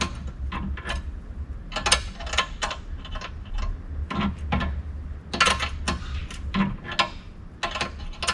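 Ratcheting metal clicks from a bolt being tightened while installing a Slipstream on a Jeep 4xe, coming in quick irregular bursts of sharp ticks close by over a low background hum, with no talking.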